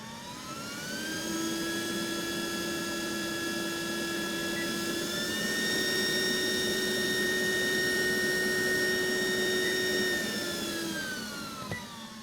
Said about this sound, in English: Here's an example of the dryer functions. It has 3 settings, a low,